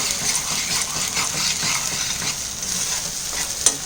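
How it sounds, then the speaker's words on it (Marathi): Lobster curry ingredients fry in oil, giving a steady, close sizzle with soft scraping from continuous stirring, loud and unbroken with no voices. "त्यातला पाण्याचा अंश निघून गेला पाहिजे अशा पद्धतीने तळून घ्यायचे"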